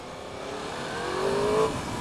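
A 2015 Yamaha R1 motorcycle engine rises as the throttle opens, a steady mechanical drone swelling to a peak about three-quarters through before settling slightly, close and fairly loud, with no talking.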